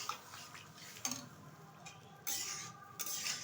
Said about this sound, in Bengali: এখন দিয়ে দেবো সিদ্ধ করে রাখা কাবলি ছোলা।